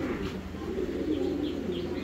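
A pair of Mundian fancy pigeons coo at close range in a steady, low murmuring stream, with faint chirps over a continuous backdrop and no talk.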